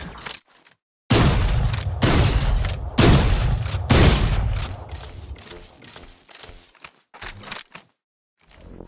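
Magepunk-skinned Bucky shotgun fired in Valorant, a handful of heavy booming blasts about a second apart, each with a ringing tail and mechanical pump clacks, followed by quieter reload clicks and clatter.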